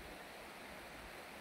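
The River Wansbeck flowing through Bothal Woods in Northumberland gives a steady, close broadband rush of running water, constant throughout with no voices.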